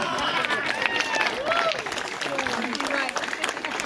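A crowd at a village community association gathering in Konkan breaks into sustained applause, dense clapping mixed with excited voices and high cries throughout.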